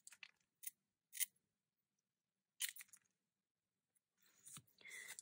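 Tile nippers snip glass mosaic pieces for simple leaf and stalk shapes, giving a few sharp, close clicks and crunches spaced apart, followed by a brief scraping rustle of glass bits near the end.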